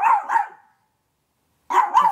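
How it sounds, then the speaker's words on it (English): An indoor dog barks at someone working in the building hallway: two quick loud barks, a short silence, then two more close by. "The dog is barking at somebody in the hall, fixing something."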